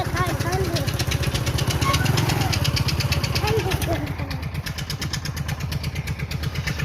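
A motorcycle engine idles with a steady low chugging throb while stopped on a rural road beside wheat fields, running continuously and close by, with people talking over it.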